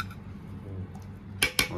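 A metal lid set down on a large biryani cooking pot gives two quick, sharp clanks close by, coming after a low background hum.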